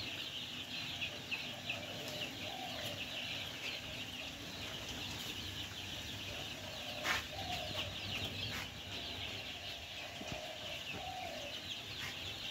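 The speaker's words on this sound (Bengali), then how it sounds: "কালার বার্ড মুরগির বাচ্চা উঠিয়েছে।" Eight-day-old Color Bird chicken chicks on a poultry farm, a faint, continuous chorus of peeping and chirping with occasional wing flutters in a quiet indoor shed.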